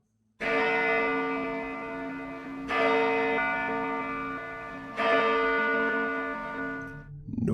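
Church bells clang loudly upstairs in a church, three big strikes a few seconds apart, each with a rich metallic ring that hangs and decays with reverberant echo.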